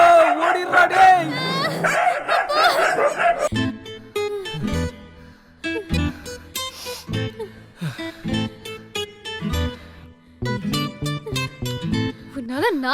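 A dog barks and yips in short repeated bursts during a chase, mixed with frantic overlapping voices and loud shouting throughout.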